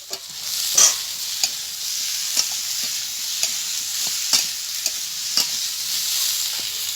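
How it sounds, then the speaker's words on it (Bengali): A utensil scrapes and stirs through frying potatoes and pointed gourd in a pan, several sharp clinks over a steady soft sizzle, no talking. "এবার ভাজা পটলগুলো এর সাথে নেড়ে চেড়ে জল দিয়ে দেবো"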